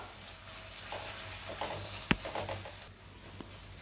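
Tomato sauce stirred into cooked vegetables in a pan for Indian-style macaroni, with a soft sizzle, scraping strokes and one sharp clink of the spoon against the pan midway.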